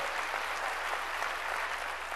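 A church congregation claps in praise during a sermon, a continuous even roar of many hands, loud and unbroken throughout.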